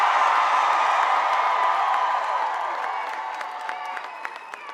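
A big rally crowd in Norfolk, Virginia claps and cheers loudly, a dense roar of applause and whoops that slowly fades, with scattered claps and shouts lingering at the end.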